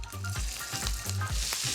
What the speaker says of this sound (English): Anything less than that sizzle, when you put that first prawn in there, don't put them in.